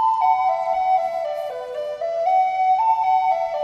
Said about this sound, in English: Second sound was this little flute phrase.